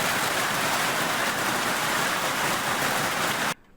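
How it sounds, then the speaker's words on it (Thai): A heavy hailstorm with large hailstones falling, a dense, loud, unbroken roar of impacts that cuts off abruptly near the end. "ลูกเห็บมันไม่ใช่เล็กๆด้วย"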